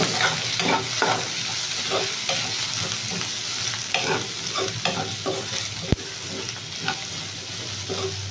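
Curry for puri, with turmeric and salt just added, is stirred in a pan with repeated scraping strokes over a steady sizzle, close and continuous, with one sharp clink of the utensil.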